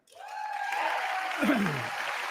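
Audience at a State of the Union address bursting into sustained clapping that swells quickly and holds steady, with a voice briefly audible over the applause.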